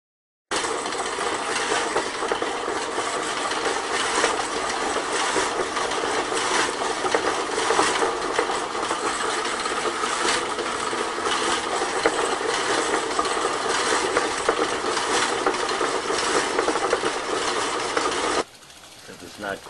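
A bike wheel motor, apparently running on 800 volts, gives a continuous, loud, rattling mechanical rumble with a ratchet-like clatter for most of the stretch, then cuts off abruptly just before the end.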